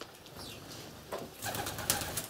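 Pigeons coo softly in a dovecote amid a faint, noisy background, with a few low murmuring calls and brief rustles rather than a clear single bird.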